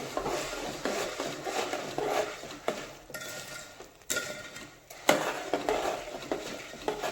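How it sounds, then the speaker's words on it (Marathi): Boondi for laddu is stirred and mixed in a pan, giving repeated scraping and clinking strokes of a utensil against the metal, close and moderately quiet, with uneven rhythm. "बुंदी टाकून मिक्स करून घेऊया"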